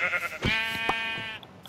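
Sheep in Minecraft bleats once, loud and near, a wavering nasal cry lasting over a second, with a short soft note at the end.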